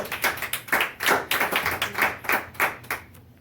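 Congregation at a church service clapping in a rhythmic, steady beat, about a dozen sharp claps in quick succession, fairly close and alone with no talk.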